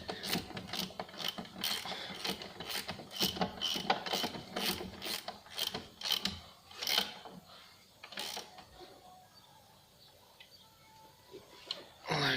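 The top bolts of a Ford Fusion rear shock absorber are tightened with a 15mm ratchet wrench, giving a run of quick, close metallic clicks in bursts that thin out and fade toward the end.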